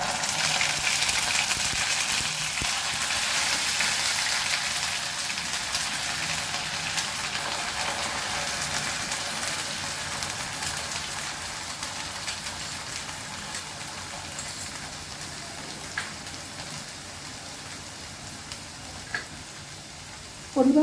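A ground paste of capsicum, coconut, poppy seeds and green chilli fries in a pan with a constant sizzle that fades slightly over time, broken by occasional stirring knocks near the end.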